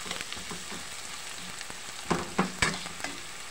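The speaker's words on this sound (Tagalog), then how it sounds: "Hayaan po natin maluto ang kamatis, guys, mga 5 minutes." Tomatoes frying with egg in a pan, a steady low sizzle with a few sharper scrapes and clatters of a utensil stirring toward the end, close and with no voices.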